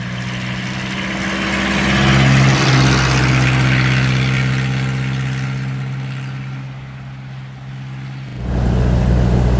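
A 1940 Rosengart LR539 Supertraction engine runs steadily at a low, even idle with a smooth purr, swelling slightly in level midway and picking up again near the end.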